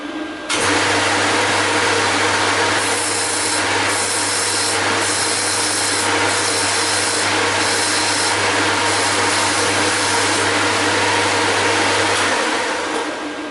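Steady rasping of a file putting a slight chamfer lead on both ends of a BSA B25 Starfire gearbox part, loud and continuous with a constant low hum behind it.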